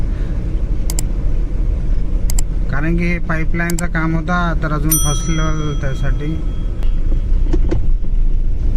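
A dump truck at a road and drainage construction site rumbles with a loud, steady low engine drone, with someone talking over it and a few brief metallic clinks.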